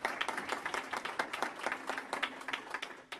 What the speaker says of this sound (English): Let's clap, yeah.